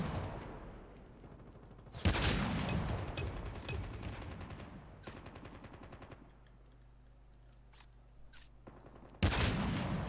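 Gunfire in the mobile game Call of Duty Mobile: a loud burst of shots opens the stretch, busy game noise and scattered cracks follow, and a second sharp burst comes near the end. No voices are heard.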